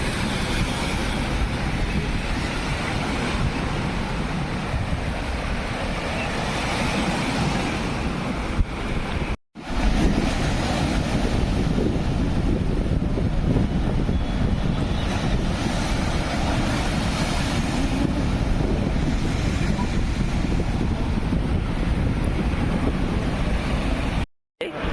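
Sea waves and strong wind on the Mumbai seashore roar continuously and loudly, with heavy wind buffeting the microphone and two brief dropouts in the noise.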